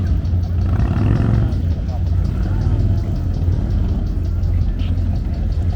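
Drift car engine revving hard through a cross race course at Tennessee Smokies Stadium during Smoky Mountain Bike Week, a loud continuous low roar that rises and falls steadily across the whole stretch.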